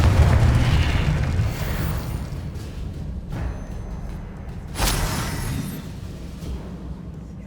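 Heavy magical blasts from the Confringo fire spell in Hogwarts Legacy, a loud booming burst at the start with rumbling low end, then a second sharp explosion near the five-second mark fading into a lingering roar.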